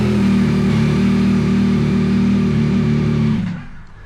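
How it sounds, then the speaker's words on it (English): Yamaha XSR900 motorcycle engine, fitted with a faulty O2 sensor, running steadily at a close, loud, even idle-like hum before cutting off near the end. "when I then turn the bike back on"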